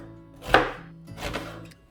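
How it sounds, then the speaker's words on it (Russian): Two crisp knife chops dicing onions on a cutting board, spaced about three-quarters of a second apart, close and distinct with no talking. "Следом 2 луковицы нарезаем кубиками."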